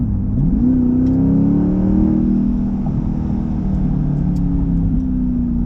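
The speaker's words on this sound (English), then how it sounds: "that was going from just part throttle to about half throttle" A Chevrolet C8 Corvette fitted with a JMS PedalMAX throttle controller accelerates from part throttle to about half throttle. The engine drones steadily and close, and its pitch climbs then holds through the run.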